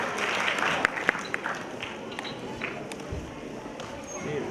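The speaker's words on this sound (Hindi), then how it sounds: "जोरदार तालियां के लिए" Audience at an Islamic quiz contest applauds a correct answer with moderate clapping, fairly close, mixed with scattered sharper claps and background room noise.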